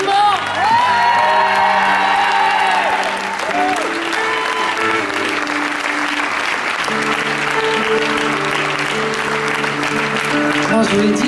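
A concert crowd at a show applauds and cheers loudly, with whoops and shouts rising over sustained clapping, while the singer's amplified French-speaking voice carries through.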